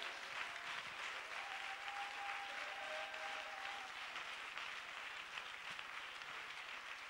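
A church congregation applauds steadily for several seconds, a dense, even wash of clapping filling the room at constant loudness, with a few faint cheers mixed in.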